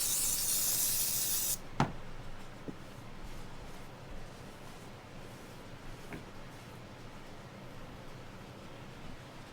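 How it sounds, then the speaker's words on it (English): Contact cleaner is sprayed onto the fuel pump area in a loud close hiss that stops abruptly, followed by quieter faint clicks and handling noises. "we're going to put a little contact cleaner on it and try and get it all off"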